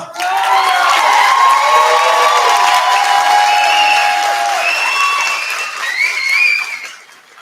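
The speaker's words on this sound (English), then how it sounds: "Let's give him one more round of applause." Audience at a 2025 high school commencement ceremony applauding and cheering, a loud sustained wash of clapping with shouts and whoops that fades out near the end.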